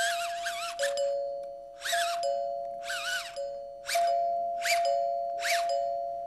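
A hand-cranked electric doorbell chime rings six times in a row, each strike a bright, ringing ding-dong tone over a steady electrical hum, close and loud with no talk.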